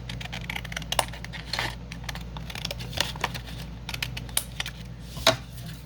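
Paper being cut down for a scrapbook pocket: soft, close snips and crisp paper rustling in an irregular rhythm, fairly quiet, with no talking.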